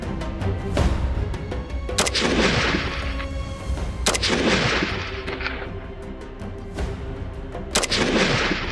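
Heavy weapons fired in a live military demonstration, loud booming shots repeating at irregular intervals, each with a long rolling echo over constant outdoor rumble.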